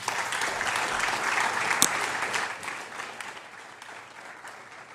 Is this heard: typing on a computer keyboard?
no